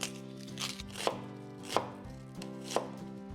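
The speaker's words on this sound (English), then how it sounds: "I want to chop 1/2 to 1/4 of an onion" A knife chops through half an onion on a cutting board, landing three sharp, distinct strikes at a slow, steady pace, each one close and crisp above a low background hum.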